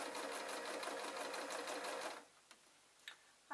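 A sewing machine runs steadily while stitching a hem in fabric, a continuous rapid needle chatter lasting about two seconds before stopping, followed by a few faint clicks and handling sounds.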